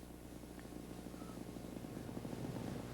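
A Weedhopper ultralight airplane comes in to land, its small engine throttled back to a steady buzzing drone that holds fairly constant, with a faint rhythmic flutter and no talking.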